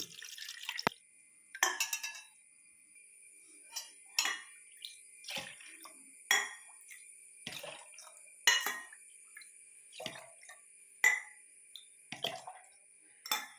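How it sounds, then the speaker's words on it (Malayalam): Star fruit preserve ladled into a tin, a dozen or so separate wet scoops and drips with light metallic clinks, spaced irregularly with quiet gaps between. "ഈ ടിന്നിലോട്ട് കോരി ഒഴിച്ച് വയ്ക്കാം"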